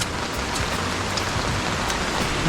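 Heavy monsoon rain in the Konkan countryside, a dense and steady roar of downpour on surfaces, loud and close with no pauses or voices.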